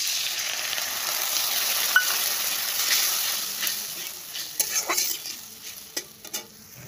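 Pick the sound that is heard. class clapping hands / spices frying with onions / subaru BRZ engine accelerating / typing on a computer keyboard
spices frying with onions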